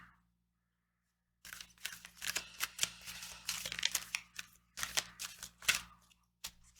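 After a moment of silence, an oracle card deck is shuffled close by, crisp riffling and crinkling bursts with brief pauses, no speech.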